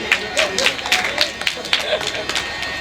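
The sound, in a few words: audience clapping at a religious recitation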